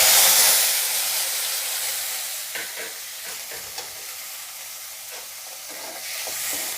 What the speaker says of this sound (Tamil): வெங்காயம் தக்காளி நல்லா வதங்கவும்.